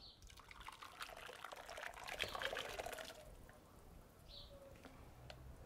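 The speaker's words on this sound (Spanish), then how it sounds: "Echamos el caldo." Broth is poured into a Cecotec slow cooker for a chickpea, bean and salt cod Lenten stew, a soft liquid trickle and splash that swells midway, then fades to faint drips and a small clink.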